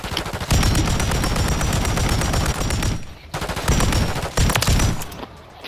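Rapid automatic gunfire in the shooter game Call of Duty: Warzone, long loud bursts broken by a short pause before firing resumes.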